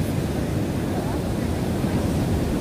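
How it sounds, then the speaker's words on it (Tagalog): Strong ocean waves at Hampton Beach, a loud, continuous roar of surf mixed with wind rumble on the microphone. "Alon, ang lakas-lakas ng alon."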